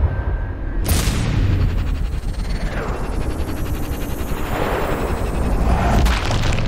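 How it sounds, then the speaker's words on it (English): An explosive sniper round from Sniper Ghost Warrior Contracts 2 fires and detonates with a sharp loud boom, followed by rumbling aftermath and another sharp blast near the end. "Oh, I've used explosive ammo."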